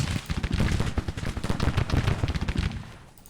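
Rapid, dense bursts of coffee mill guns firing in the Civil War strategy game Grand Tactician, a loud continuous rattle of close shots that fades slightly at the end.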